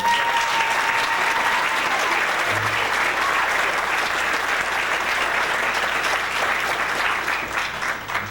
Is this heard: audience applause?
yes